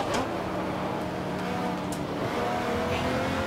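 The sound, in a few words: Jaguar XJ-S race car engine in the video game GT Legends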